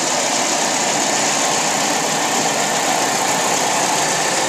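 A truck engine idles steadily and loudly, a constant dense rumble with no pauses or voices.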